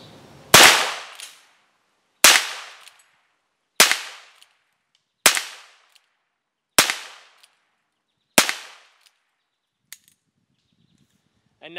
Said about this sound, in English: So I'm going to shoot a few rounds with this guy.